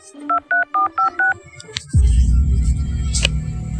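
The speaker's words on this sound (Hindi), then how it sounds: "लगता है सराफत भाई को फोन करना पड़ेगा।" Six quick dial tones beep in an even rhythm, followed by a click and a low, steady hum like an open phone line.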